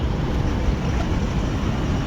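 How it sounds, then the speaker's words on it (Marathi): Water running beside a road near Shahgad, heard as a loud continuous rushing wash with heavy low rumble, close and steady, with no talk over it. "बघू शकता तुम्ही पाणी चालू आहे"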